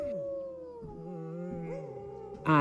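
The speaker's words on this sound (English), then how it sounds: "This little whimper you hear or growl right there" A dog whimpers and growls in reaction to wolves or coyotes, giving soft, wavering whines and low rumbling tones that layer with distant howling, ending in a brief louder burst.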